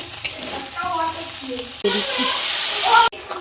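Vegetarian meat sizzles and fries in a pan with spices, a loud hissing that jumps up sharply midway while someone talks over it.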